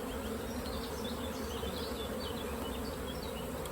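Honey bees swarm in a dense, steady buzz around an opened hive being split to make room, a strong colony humming continuously and close throughout.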